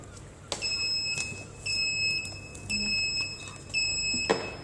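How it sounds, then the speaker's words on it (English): An IP camera's alarm buzzer sounds after detecting a face, giving repeated steady electronic beeps in several separate bursts, fairly faint against quiet room noise. "the cameras can detect my face and the cameras will alarm"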